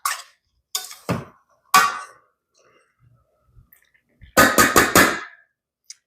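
A spoon is tapped sharply against a pot several times to knock off mushroom soup ingredients, close and loud bursts in two clusters with a quiet gap between.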